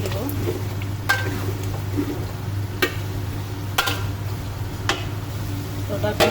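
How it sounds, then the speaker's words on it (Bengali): Potatoes stirred into a frying spice paste in a pan while cooking a rohu fish curry with pointed gourd, with soft sizzling under a steady hum and several sharp clinks of a spoon against the pan. "দিয়ে দিলাম আলু। এটাকে আমি একটু নেড়ে চেড়ে দেব।"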